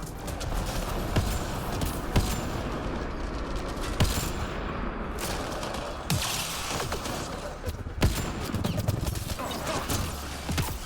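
Gunfire in the video game Mass Effect Andromeda, scattered sharp shots and bursts amid battle noise, with voices talking over the fighting.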